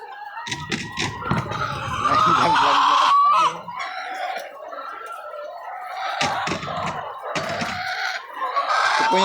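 Chickens cluck and squawk close by in a poultry house among trays of eggs, busy and irregular, with tapping and shuffling noises and no speech.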